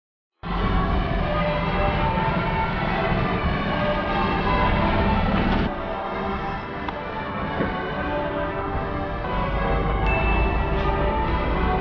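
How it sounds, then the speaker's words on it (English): Loud, dense ringing from church bells close behind, a continuous clangour with overlapping tones that holds steady throughout, dipping slightly midway before swelling again. "if you can actually hear me over the noise of the bells behind me"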